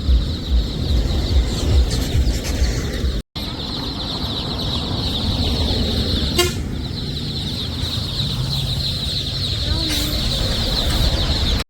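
Chickens and chicks cluck now and then over a steady high buzzing background by a roadside, with occasional voices nearby.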